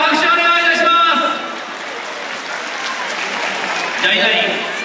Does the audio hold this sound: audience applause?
yes